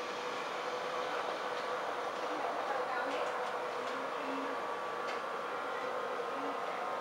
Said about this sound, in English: Just about to leave off platform 2 will be your heavily delayed 1417 Virgin Trains East Coast service from Newcastle to London King's Cross.